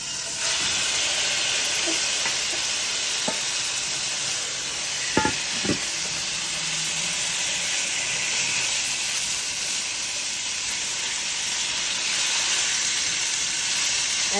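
Marinated, seasoned stew beef sizzles in a pot with a steady, even hiss that holds throughout, joined midway by a few brief clinks and knocks.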